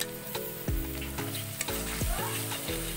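Chili, turmeric powder and ginger paste fry in hot oil, the steady sizzle broken by a regular rhythm of stirring strokes, about one every half second, close and clear with no talk.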